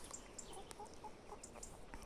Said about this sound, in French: Ça c'est le coq.